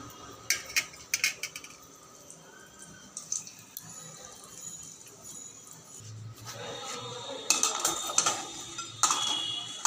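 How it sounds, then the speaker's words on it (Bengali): Chickpeas lightly fried in a pan clatter under a metal spatula, with sharp scraping clinks in bursts, a quieter stretch of soft stirring, then a busier run of scrapes and taps near the end. "এবার বুটগুলোকে একটু ভেজে নিই হালকা করে"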